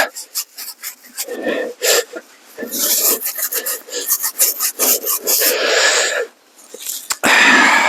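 A brush scrubs a car wheel coated with Armor All wheel and tyre cleaner, giving loud, close, rasping back-and-forth strokes in irregular bursts with short pauses.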